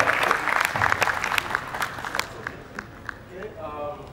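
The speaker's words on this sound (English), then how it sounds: "let's give you a round of applause." Audience applause at a day-three event session, a moderately loud burst of clapping that thins out and fades over a few seconds, with background talk and murmur running beneath it.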